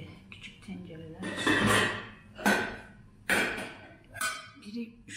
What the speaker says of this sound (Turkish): Hemen iki tane tenceremi çıkarayım.